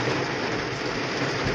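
Rain falling on the windshield of a Maruti Suzuki Baleno treated with Rain-X water repellent, a steady, dense hiss of drops with no pauses and no voices over it.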